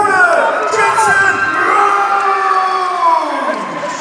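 Crowd at a kickboxing bout cheering, whooping and applauding after a decision is announced, a loud sustained roar with shrill shouts rising and falling, slightly easing toward the end.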